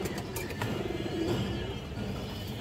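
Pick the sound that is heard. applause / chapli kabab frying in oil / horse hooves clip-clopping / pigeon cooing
pigeon cooing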